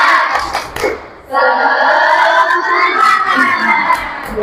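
A school classroom of students performs a rhythmic clapping chant: a few scattered claps first, then a burst of loud group clapping and shouting that holds steady to the end.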